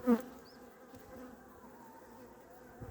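Honeybees hum softly at a hive in the Adana region during winter hive care, a faint, steady buzz with a brief knock at the start and no talk.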